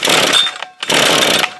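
Toro weed trimmer two-stroke engine, under repair and being adjusted on choke, revving loudly up close in two rasping bursts with a short dip between them.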